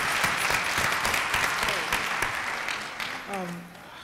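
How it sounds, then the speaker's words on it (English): Audience applause at a town hall meeting on domestic violence, a dense, steady wash of clapping that holds for a few seconds and then thins out near the end. "Give him another round of applause."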